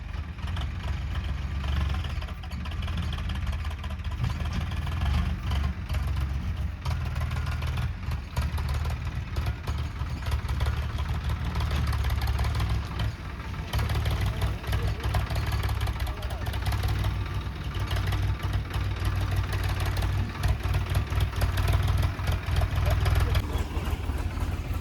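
A Swaraj tractor's engine drones steadily and loud throughout, a low rumbling hum that never lets up, while people talk over it in the background.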